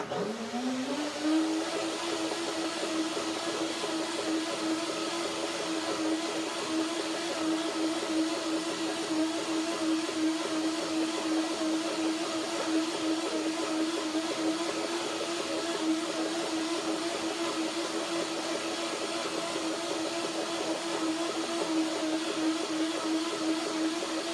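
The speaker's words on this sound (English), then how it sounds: "And then I do the second blending after the soaking, and then it is really creamy" A blender spins up quickly and then whirs at a steady, loud pitch for the whole stretch, blending a curry carrot julienne soup until creamy, with no talking over the continuous motor drone.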